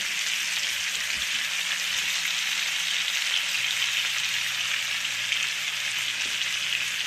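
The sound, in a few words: tomatoes and garlic pepper frying in a pan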